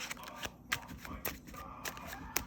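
Tarot cards being shuffled by hand, a series of soft riffling and slapping bursts at uneven intervals, close and fairly quiet.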